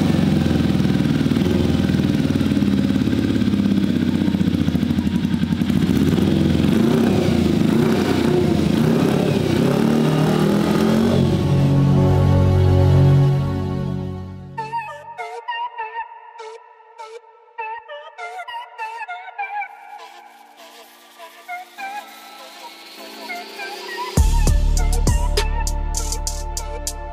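A new sport motorcycle's engine running loud and steady up close, then cutting off partway through, leaving quieter clicks and tonal mechanical sounds before a final burst of noise.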